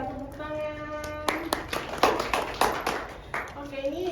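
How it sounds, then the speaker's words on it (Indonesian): A class claps for a student group after a presentation in a microteaching lesson: a burst of hand claps starting after a spoken voice, continuing irregularly for a few seconds, moderately close, with a voice resuming at the end. "terima kasih untuk kelompok 3, tepuk tangan"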